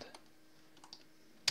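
A few quick keystrokes tap on a computer keyboard while a command is entered in Linux Mint, sparse light clicks in a quiet room ending with a sharper, louder key press.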